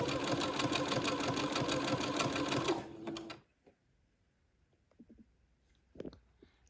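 Sewing machine zigzag-stitching gathered lace onto cuff pieces of a baby layette, a loud rapid mechanical whir with even stitch rhythm that stops abruptly after about three seconds, followed by faint clicks and quiet handling.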